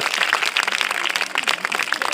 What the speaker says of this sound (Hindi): ताली मरबाओ ना